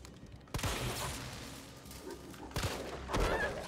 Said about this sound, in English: Now I can shoot those effers.